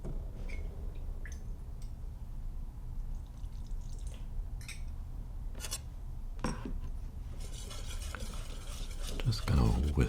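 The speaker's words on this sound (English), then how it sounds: "Just gonna whisk that together." Egg and cold water are whisked into flour in a bowl, giving close, soft scraping and clicking strokes in irregular bursts that grow busier and louder toward the end, with no speech.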